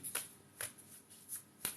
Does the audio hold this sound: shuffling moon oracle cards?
yes